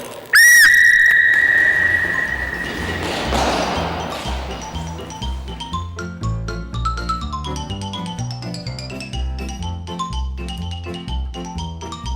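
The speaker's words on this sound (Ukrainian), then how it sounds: "Я буду свистіти у свисток." A referee's whistle starts a relay race at a children's team competition, one sharp sustained blast near the start, followed by upbeat music playing on with no talking.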